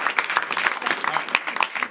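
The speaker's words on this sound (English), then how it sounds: "Clap for yourself." A small audience at a live comedy show claps briefly and unevenly, with individual close claps and a few voices mixed in.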